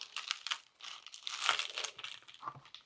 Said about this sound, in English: So let's go ahead and cut up some lettuce